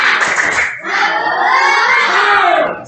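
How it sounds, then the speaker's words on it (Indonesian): A class of pupils at a physical education lesson loudly performs the 'tepuk semangat' clapping chant, rapid claps blending with energetic shouted voices in a dense, continuous burst. "Tepuk semangat."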